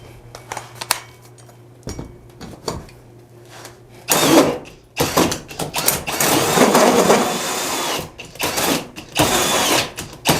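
A cordless power tool on a nearly dead battery whines in uneven bursts, straining and stopping between short runs, close and fairly loud.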